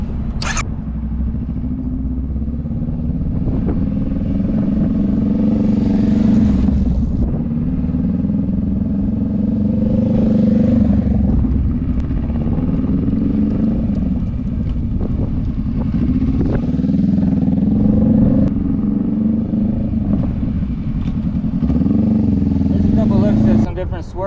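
A motorcycle rides continuously through braking and swerving maneuvers, with a steady engine drone and road noise, while a person talks throughout.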